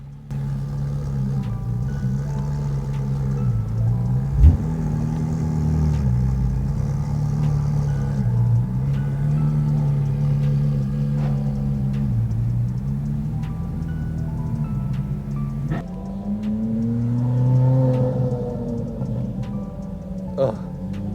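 Race car engine droning steadily from inside the cabin during a track day at Sonoma Raceway among Porsches and Ferraris, a loud sustained rumble that climbs in pitch under acceleration, with occasional clunks and a voice speaking over it.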